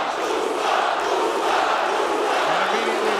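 A Dubai arena crowd at a PFL fight roars steadily in support of Usman Nurmagomedov, a dense, continuous wash of massed voices with a rising chant-like tone near the end.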